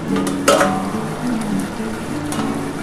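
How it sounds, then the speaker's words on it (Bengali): A lid comes off a pot of simmering paneer, potato and capsicum curry with a brief metallic clatter, followed by a steady close sizzle and bubbling, with no one talking. "ঢাকাটা খুলে নিই বন্ধুরা"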